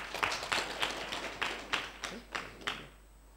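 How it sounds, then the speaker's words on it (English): Applause for Dr. Mena at an education conference: about ten evenly spaced, fairly faint claps in a steady rhythm that fade out at the end, with no talk over them. "Please, let's clap for him again."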